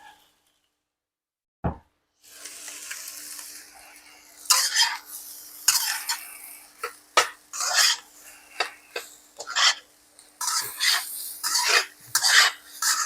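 Chicken fried rice stirred in a hot pan, with a sharp knock, then repeated scraping, clattering and sizzling strokes of a utensil against the pan, close and fairly loud, with no talking.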